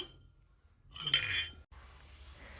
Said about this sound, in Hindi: सब गिर गए बर्तन उसके